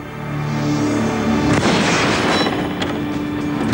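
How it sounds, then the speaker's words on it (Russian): In a stage magic trick, a gun loaded with an arrow fires one sharp blast about midway through. Reverberant noise surrounds the shot, and faint sounds from the room follow. "Он опускает стрелу в ствол ружья. Он готов выстрелить."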